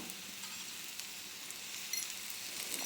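Oil sizzles and fries steadily in a pan under a vegetable dosa topped with vegetables and sprouted green gram, a continuous close hiss with faint crackles.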